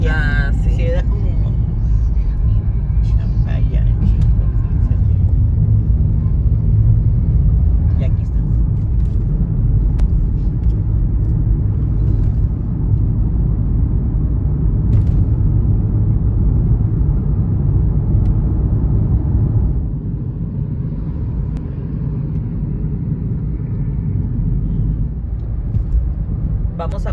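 A car cruises along a Mexican highway toward Ciudad Valles and San Luis, with a steady, loud low road and engine rumble that runs the whole time and eases slightly near the end. People talk in the cabin over the drone.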